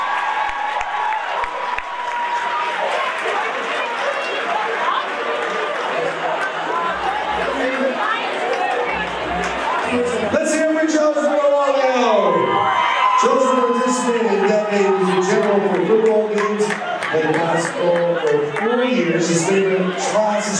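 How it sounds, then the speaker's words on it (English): Steady crowd applause and cheering fill a graduation fashion show fundraiser for a high school class of 2024, holding loud and continuous for about twenty seconds with chatter and a few whoops mixed in. "Give a nice round of applause."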